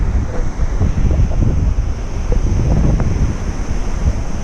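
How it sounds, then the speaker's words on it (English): Ocean waves break at Uluwatu in Bali, a steady roar of surf mixed with heavy wind buffeting the microphone, loud and continuous with no talking. "Check out these waves, man."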